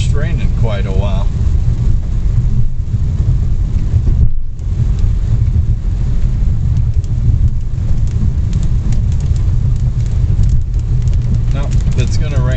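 Steady rain drums on a vehicle while driving on US 60 through western Missouri, a dense continuous wash of hiss and low road rumble running the whole stretch with one brief dip; no distinct thunderclap stands out.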